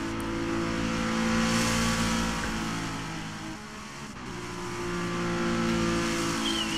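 A race car engine drones steadily with a brief dip under braking in Project Cars, a continuous close, buzzy whine with no talking.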